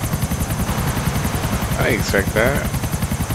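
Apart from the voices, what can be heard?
helicopter flying in GTA 4 (video game)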